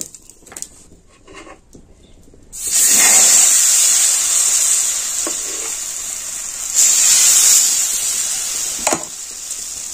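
Oil brushed across a hot pan with a cut eggplant while making carrot patishapta pitha; a loud, steady sizzle bursts in after a quiet moment and swells again later, with no talking.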